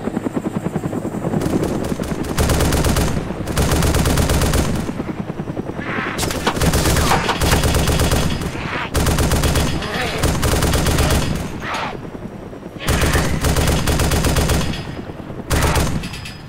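Heavy automatic gunfire in the video game DayZ during a lightning storm, loud rapid bursts repeating over a dense rumbling background with brief gaps between volleys.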